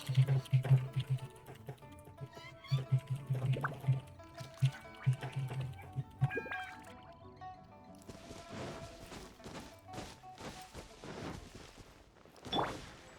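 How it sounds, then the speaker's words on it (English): Typing on a computer keyboard during a Genshin Impact session, uneven bursts of light clicking keystrokes mixed with soft knocks and game sounds in the background. "I'm typing messages"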